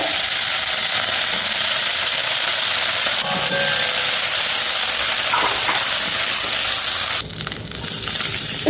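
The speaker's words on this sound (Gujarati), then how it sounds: "ગેસ ઉપર કઢાઈ મૂકી દીધી છે. બટર મૂકી દઈશું આપણે." Butter sizzling in a kadai on a gas stove, giving a steady, loud frying hiss that runs throughout, with small clinks and a brief dip near the end.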